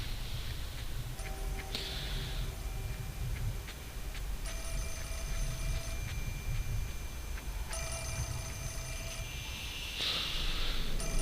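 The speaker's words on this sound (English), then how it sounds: "So the phone is ringing." An old house telephone rings in repeated bursts inside the horror video game Fatal Frame 4, set over a low ambient drone, with no one talking.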